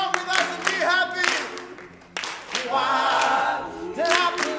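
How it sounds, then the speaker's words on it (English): An audience claps along in a steady beat while an a cappella group sings at a 2014 live show, with the claps blending under prominent singing voices. "Clap along with us and be happy."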